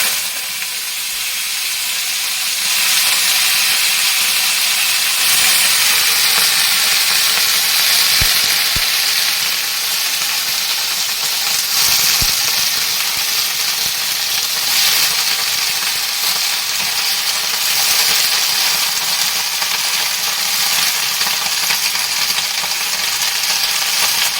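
Mixed vegetables with five-spice seeds dropped into hot oil in a wok, a loud, continuous close sizzle and hiss that holds steady throughout, with no voices.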